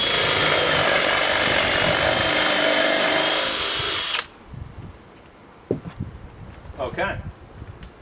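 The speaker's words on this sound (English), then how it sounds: "so we've drilled a little distance in" A hand drill whirs steadily and loudly for about four seconds, then stops abruptly, followed by quieter scraping and handling noises.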